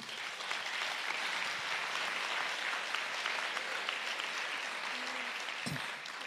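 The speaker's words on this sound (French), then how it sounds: "Gilles Rousseau et Javier Martin, qu'on peut applaudir" Sustained applause from a sizable audience at a film festival opening night, steady and full throughout, with a brief thump near the end.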